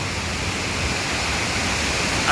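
Savatkada waterfall, a cascade beside a cave, roars as a dense, unbroken wash of noise, close and loud, with no voices.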